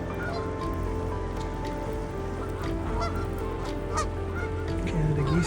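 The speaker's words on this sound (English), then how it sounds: "Canada geese here." Canada geese honking at a frozen, snowed-in harbor, several calls rising over a steady background wash of ambient noise, moderately distant and continuous throughout.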